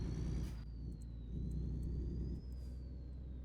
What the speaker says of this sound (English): It sounds like there's a train nearby.